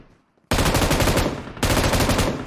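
Automatic gunfire in the mobile battle-royale game PUBG Mobile: two loud, dense bursts of rapid shots, the first running about a second, then a brief dip before the second burst, close and dominant with no talk.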